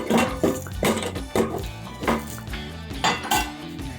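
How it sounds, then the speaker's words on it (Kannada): A pressure cooker lid handled and shut on a pot of mutton biryani, a series of close metallic clanks and scrapes in an uneven rhythm, no talking. "ಇವಾಗ ಕುಕ್ಕರನ್ನು ಮುಚ್ಚೋಣ"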